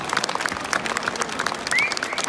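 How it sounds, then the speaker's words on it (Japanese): Audience clapping at Tokyo Dome after a Nishimonai Bon dance performance from Akita: a dense patter of many hands, steady and moderately close, with no voices over it. "今一度大きな拍手をお送りください"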